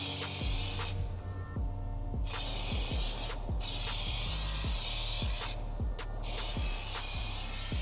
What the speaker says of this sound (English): And then it was time for its first coat of primer.